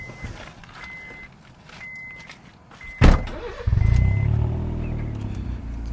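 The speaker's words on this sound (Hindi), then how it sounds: "That is the exhaust note" A stage 1 tuned Honda Jazz hatchback with a Borla exhaust starts with a sharp crank and settles into a deep, throaty idle rumble close by, following a few electronic beeps.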